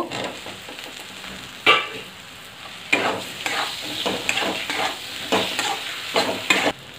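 Tomatoes and spices fry loudly in a pan. A constant sizzle runs under repeated bursts of scraping and stirring from a spoon or spatula, and no voice is heard.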